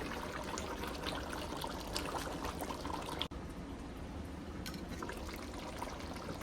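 Jamaican stew pork with butter beans and lima beans simmering in a pot, giving a steady, quiet bubbling and trickling that runs without a break, with one brief dropout partway through and no talk.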